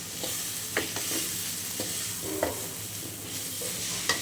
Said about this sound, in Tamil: அதை போட்டு நல்லா வதக்கிக்கணும்.